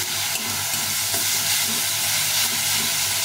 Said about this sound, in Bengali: আদা রসুন যেন কাঁচা গন্ধটা না থাকে সেভাবে ভেজে নিতে হবে